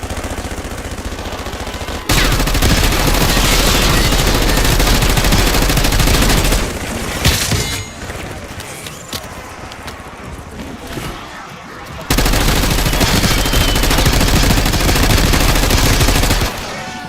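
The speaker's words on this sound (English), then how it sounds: "Establishing sentry turret." Sentry turret firing in a video game, long sustained stretches of very loud rapid automatic fire, broken by a quieter mid-section of scattered shots and activity before the heavy stream resumes.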